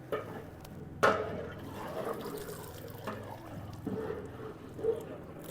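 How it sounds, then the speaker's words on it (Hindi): Water from a jug pours into a large pot of fish biryani, a soft steady splashing with a few louder sloshes, heard close with no talk. "तो अब हम इसमें पानी ऐड करेंगे।"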